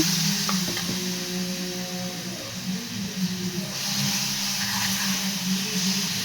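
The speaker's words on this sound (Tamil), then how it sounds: "பீட்ரூட்டை திருப்பி இதில் சேர்த்து நல்லா கலக்கி விடலாம்" Beetroot halwa being stirred in a pan, a steady scraping and soft sizzling that runs continuously at close range, with no talk over it.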